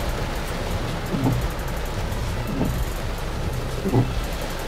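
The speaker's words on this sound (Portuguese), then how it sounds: "Ai, caramba, muita chuva." Heavy rain pours over the Ponta d'Areia beach neighborhood of São Luís, a steady close hiss of falling water with a few louder spatters and gusts rising through it, and no talking.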